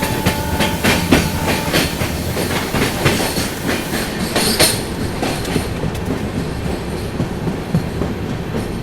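Agartala Tejas Rajdhani Express rolling on rails near Farakka, a loud continuous rumble with clickety-clack wheel beats and brief squeals, steady and close from inside the moving train.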